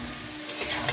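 Slit green chillies hit a pan of frying pumpkin curry tempered with dried chilli, giving a brief close sizzle with a small burst of spattering partway through.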